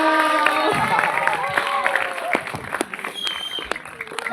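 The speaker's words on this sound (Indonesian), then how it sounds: "Kasih tepuk tangan dulu dong." Classmates at a school documentary film festival applaud and cheer for their group leader Iwan, with a burst of crowd clapping and voices talking over it, fading into scattered claps.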